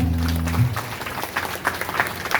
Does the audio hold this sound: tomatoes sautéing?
no